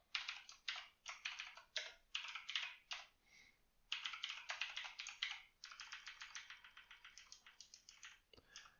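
Typing on a computer keyboard: rapid bursts of light clicking keystrokes, close and quiet, with short pauses between runs and no voices.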